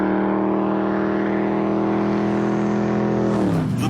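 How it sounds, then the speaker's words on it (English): A V8 Ford Mustang engine holds a loud, deep, steady rumble close by, then its pitch swings sharply near the end as the revs change, with no voices. "The bellow of a V8 Ford Mustang."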